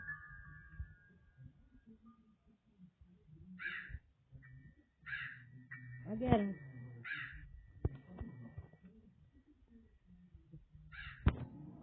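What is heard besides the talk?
bird cawing in Roblox Granny video game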